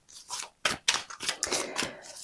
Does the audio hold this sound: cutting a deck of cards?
yes